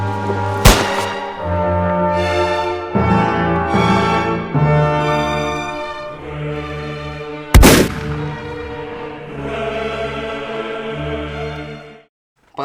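Gunfire and artillery in a historical reenactment film about the Canadian Patriotes, with two sharp, loud blasts about seven seconds apart set against sustained orchestral music that fills the rest.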